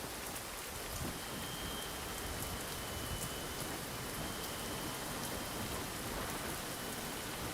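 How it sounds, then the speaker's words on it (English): Steady rain during a flight in a flight simulator game with the Zibo mod, a dense continuous hiss of drops with faint ticking, no voices. "I didn't know it was raining here until Kevin had mentioned it."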